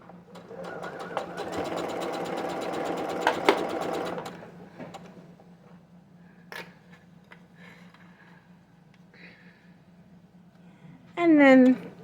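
A sewing machine runs close by for about four seconds with a rapid mechanical whir, then goes quiet under a low hum; a voice speaks briefly near the end.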